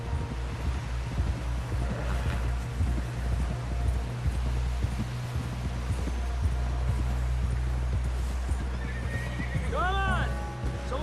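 A horse's hooves clip-clop steadily in Red Dead Redemption 2 under constant outdoor game ambience with voices, ending with a loud whinny near the close.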